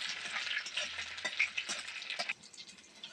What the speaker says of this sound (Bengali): এবার 10-12টা গোটা রসুনের কোয়া দিয়ে দেবো, আবারও নাড়ি চাড়িয়ে নেবো।